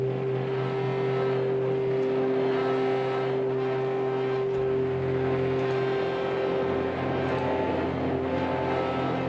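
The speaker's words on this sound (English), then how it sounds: "Adaptive, which has resonating structure as its sample source in the granular engine" A Phase Plant granular synth patch built on resonating-structure samples gives a sustained, droning tone with steady pitched layers and a low rumble that shifts partway through, played alone.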